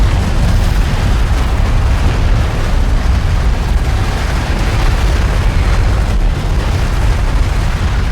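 Dense, loud, continuous rumble of artillery fire-support explosions from Homeworld: Deserts of Kharak, booms overlapping into an unbroken roar throughout, no voices.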